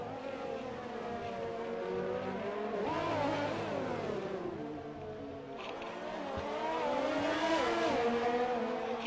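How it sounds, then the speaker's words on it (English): Race cars in the F1 2020 video game lap the Russian GP with whining, high-revving engine notes. The pitch sweeps up and down as cars accelerate and lift, and several engines overlap fairly loudly. "by the time Raphael's been able to get the DRS open and in the slipstream, he's not able to close up fast enough to make that pass."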